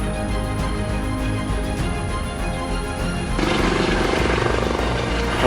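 A U.S. Coast Guard MH-65 helicopter hovers low over water during rescue swimmer training, its steady, loud rotor and engine roar filling the whole clip and growing slightly heavier partway through.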